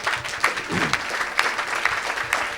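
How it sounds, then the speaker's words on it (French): A church congregation applauds together at a worship service, a dense, continuous clapping that rises in bursts over a few seconds, with scattered crowd sounds mixed in. "Acclamez pour Jésus-Christ."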